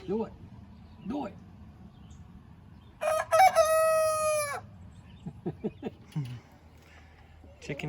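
A rooster crows once, loud and close, a drawn-out cock-a-doodle-doo amid scattered clucks, with people talking quietly before and after it.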